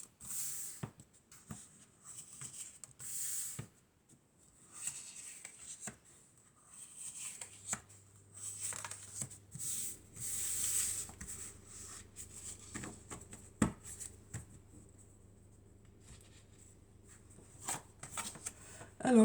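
Oracle cards being shuffled and handled, giving soft papery riffles and taps in bursts, with a low steady hum entering partway through.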